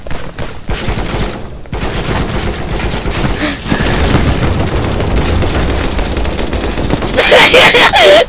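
Tommy gun fire in the multiplayer game Gorebox, heard as sustained rapid automatic bursts with short pauses, loud and close, ending in a harsher burst.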